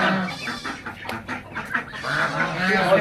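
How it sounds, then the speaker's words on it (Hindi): Hens and ducks in a small open-air zoo cluck and call over each other in a busy, continuous jumble, moderately close, with faint background murmur. "ये बतखें मुर्गी देखिए, मुर्गी और साथ बतखें"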